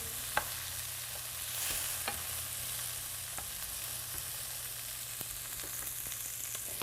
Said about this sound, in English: we're gonna cook the onions for a couple minutes until they're softened.